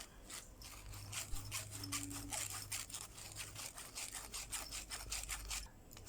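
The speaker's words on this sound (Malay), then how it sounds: "sekarang saya nak ayak ya. Okey, sekarang kita ayak." Ground spices for a village-style fish curry being shaken through a sieve, giving a steady rhythmic scratchy rubbing with repeated strokes at close range, no talking.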